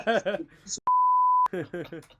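A single steady censor bleep, about half a second long, cuts into French speech to mask a name, with talking just before and after it.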